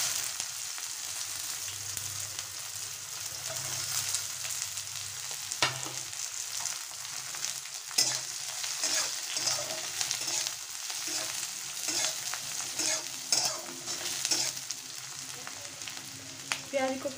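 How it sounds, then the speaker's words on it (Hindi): Onions frying in oil with red chili and cumin for a rajma curry give a steady, fairly quiet hiss and crackle, with occasional stirring clinks and scrapes, and no talking. "प्याज को फ्रेंड्स सुनहरा होने तक भूनना है।"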